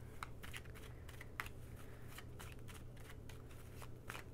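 A tarot deck is shuffled in repeated quick riffles and soft card slaps, close and fairly quiet over a low steady hum, with no talking.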